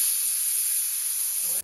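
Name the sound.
pressure cooker whistle releasing steam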